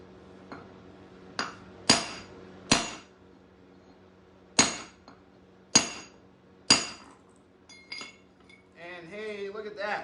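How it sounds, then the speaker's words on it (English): A hammer strikes a geode in a series of sharp, ringing metallic blows, about six distinct hits spaced irregularly, close and loud, followed by a voice speaking at the end. "this is trying to help control the way that the geode cracks open"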